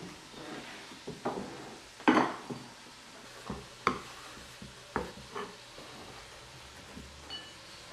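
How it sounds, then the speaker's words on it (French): Diced vegetables tossed and stirred together in a pot, giving scattered scraping and clinking knocks of a utensil against the pot, with a few louder strikes, in a quiet kitchen and with no talk. "Puis on va tous les mélanger ensemble dans un pot."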